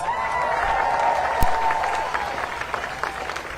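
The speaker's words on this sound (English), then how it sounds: "Give him a round of applause." A crowd at a voting rights march in Atlanta applauds and cheers outdoors, a broad wash of clapping with a sharp bang partway through and scattered voices rising over it.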